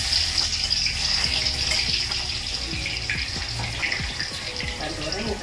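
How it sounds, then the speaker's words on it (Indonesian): Garlic and ginger fry in hot chicken fat with a loud, steady hissing sizzle that fills the whole stretch, close and continuous. "Kita taruh bawang putih sama jahe dulu."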